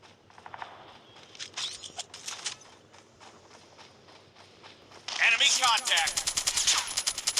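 MG42 machine gun firing in Call of Duty, with rapid bursts of game gunfire that turn into a loud, dense sustained stream near the end, plus scattered other shots and effects.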